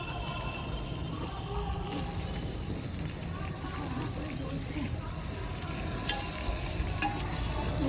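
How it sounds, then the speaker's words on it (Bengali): Whole cumin seeds and black peppercorns fry in a pan with a steady, close sizzle and crackle. Occasional stirring scrapes run under the constant hiss. "গোটা জিরে যাচ্ছে।"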